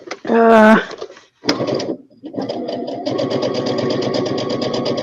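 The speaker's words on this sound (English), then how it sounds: "I'm right on the edge, so I'm just going to go ahead and stitch." A sewing machine stitches a quilt binding in a steady mechanical whir that runs continuously through the second half, after a brief burst of rattling and handling noises near the start.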